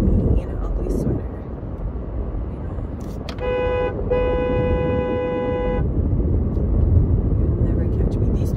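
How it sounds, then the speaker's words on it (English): A car horn honks in traffic, a short toot followed at once by a longer steady blast lasting about two seconds, heard over continuous road rumble with a voice nearby. "I'm not afraid to honk my horn"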